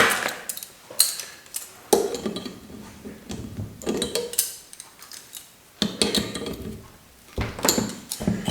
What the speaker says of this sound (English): I'm just going to use the little vise that I pulled, and we're going to clamp it down